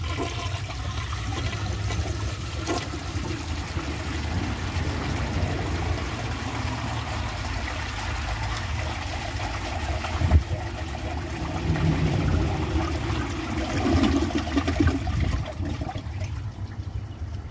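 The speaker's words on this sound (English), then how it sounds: "So now let's give this thing a flush and see how it does on the tests." A 1972 Kohler Wellworth toilet flushes with a weak, drawn-out rush of water, a steady hiss and gurgle lasting well over fifteen seconds with a brief louder surge partway through.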